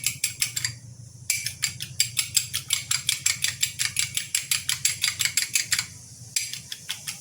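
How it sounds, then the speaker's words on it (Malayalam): A fork beating a mixture in a bowl, producing rapid, steady clinking taps against the dish in a fast, even rhythm with a couple of brief pauses, close and clear. "അപ്പം നമ്മുടെ ഈ ഫോർക്കില്ലേ, അതുകൊണ്ട് ബീറ്റ് ചെയ്താൽ പെട്ടെന്ന് തന്നെ നമുക്ക് ബീറ്റ് ചെയ്ത് കിട്ടും"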